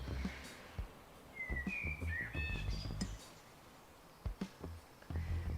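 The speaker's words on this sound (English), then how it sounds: "Can you hear the birds?" Birds chirp and whistle in short bright phrases over a quiet outdoor background, fairly faint and at a moderate distance.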